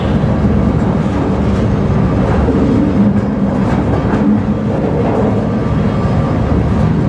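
A freight train rolls along in a continuous loud, close rumble with broadband rattling and faint rhythmic clatter, recorded while train-hopping in the Pacific Northwest; no voices are heard.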